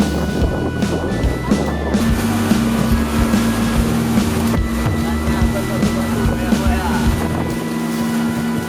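A small motorboat rides over open sea toward Pulau Panjang in the Banyak Islands, its engine droning steadily beneath wind buffeting the microphone and splashing water, with people talking over it.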